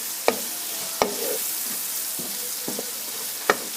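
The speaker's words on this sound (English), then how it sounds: "just going to allow the celery to cook for about 3 more minutes" Celery, seasoned with salt and black pepper, fries in a pan with a continuous bright sizzle, punctuated by a few sharp clicks of a utensil against the pan, nearby with no talking.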